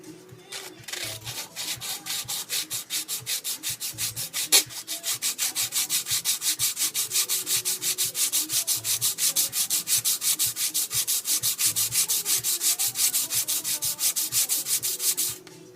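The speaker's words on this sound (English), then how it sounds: "I don't usually sand on my workbench" A back plate sanded by hand on a workbench, with steady rhythmic rasping strokes, fast, even and close, continuing alone for most of the clip.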